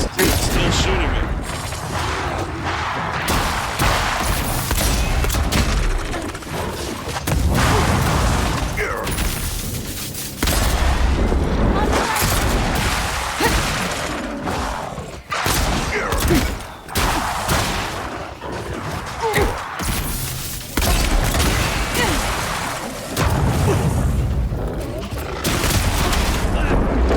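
Enemy gunfire in Avowed pelts the player in dense, continuous volleys and booms, loud and close throughout, with a person talking over the shooting.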